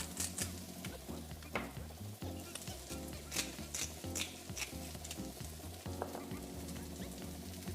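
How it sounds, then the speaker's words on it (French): Onions fry in a wok with a soft, steady crackling sizzle, broken up by frequent clinks and scrapes of stirring; the cooking sounds are faint and close. "Il est temps de poêler les oignons"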